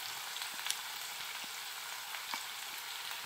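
A paste of ginger, garlic and green chilli fries in a pan, giving a steady, even sizzle with a few faint stirring clicks, close and moderately loud.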